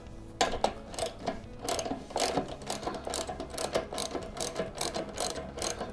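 A hand ratchet works loose a 12 mm mount bolt on a Vulcan 750 motorcycle, giving close, rapid pawl clicks in short repeated bursts.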